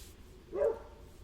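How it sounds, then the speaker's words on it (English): A single short dog bark at moderate distance, faint against quiet room tone. "Dog's still barking."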